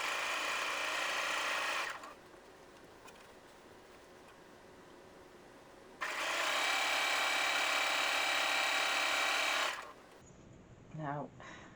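A sewing machine stitching the edges of a drawstring bag in two loud, sustained whirring runs, each a few seconds long, separated by a quieter pause, followed by a brief faint sound at the end.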